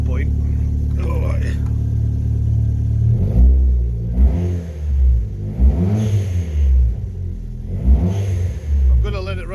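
A Toyota Celica GT4 ST205 engine running after sitting 14 years, a steady close idle rumble broken by several throttle blips that swell and fall in a loose rhythm.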